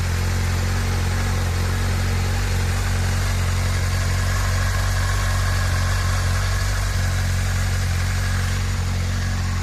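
A 2007 Honda CBF 1000 ABS motorcycle engine idles steadily with a deep, constant low rumble and even hum, running unbroken throughout with no voices.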